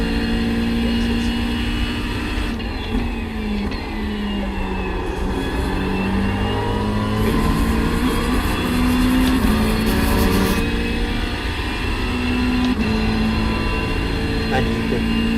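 A race car engine in the iRacing sim drones steadily through laps, its pitch rising and falling with each shift and corner, loud and continuous with no pause.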